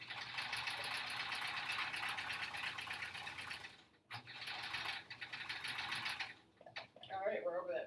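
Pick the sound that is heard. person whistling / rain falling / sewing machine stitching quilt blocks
sewing machine stitching quilt blocks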